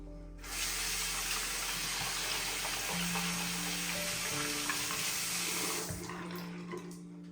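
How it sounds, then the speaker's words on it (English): Tap water runs steadily into a sink as hands are washed, a broad hiss starting after a brief quiet moment and continuing for about five seconds before cutting off, close and fairly loud with no talking. "Let's wash our hands."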